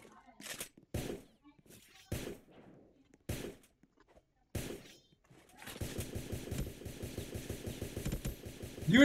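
Rapid video game gunfire runs as a dense, steady burst through the later half, preceded by several separate sharp shots with gaps between them; loud and close with no talk over it.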